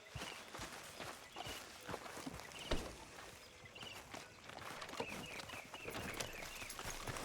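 Horse hooves clop along at an unhurried walking pace in Red Dead Redemption 2, soft and a little distant, with faint outdoor ambience.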